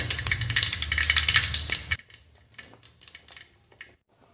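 Mustard seeds spluttering in hot oil in a cooker: a rapid, dense crackle of sharp pops for two seconds, thinning into scattered, fainter pops that die away.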